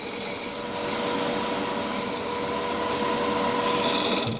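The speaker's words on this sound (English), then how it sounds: "Just using a thin parting tool there to mark out the extremities" A thin parting tool rubs and scrapes steadily against turning wood while marking out a mortise, a continuous close rasping hiss with slight surges and no talk.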